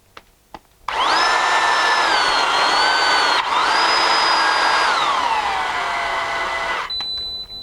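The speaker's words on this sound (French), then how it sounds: "Maintenant, je vais utiliser ma pince à sertir." An electric crimping tool crimps a PER pipe fitting, its motor starting abruptly and whining loudly for about six seconds with a pitch shift midway before it stops.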